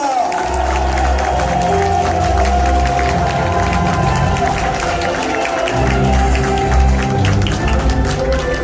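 A crowd at the launch ceremony of a regional political support forum in Gyeongbuk, Korea, applauds steadily and densely for several seconds, with some cheering and a low hum beneath the clapping.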